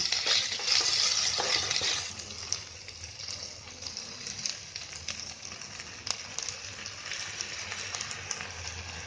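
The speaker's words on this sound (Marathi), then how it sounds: "आता मी काय करते, ह्याच्यावर आहे ना मी भाजी टाकते" Dill leaves vegetable (shepu bhaji) fries in a pan with a steady, close hiss and sizzle, bursts of crackle and occasional stirring scrapes, strongest at the start.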